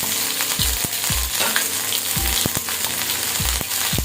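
Ginger sizzling and frying in hot oil with panch phoron, a steady dense crackle with several sharp stirring knocks and scrapes of the pan spaced through it, close and loud, no talking.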